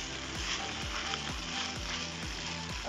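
Pasta is tossed and mixed in a hot pan, giving a quiet, continuous sizzle with soft stirring; a regular low thumping pulse runs beneath it throughout.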